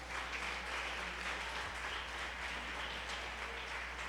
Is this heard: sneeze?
no